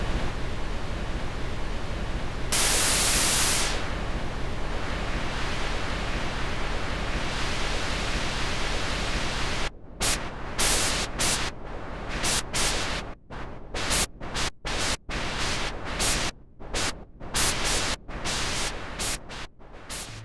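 The NoiseFace synth app gives off a steady hiss of broadband filtered noise. Partway through it breaks into a rapid, uneven stutter as the filter modulation chops and sweeps the noise, loud and alone with no voices.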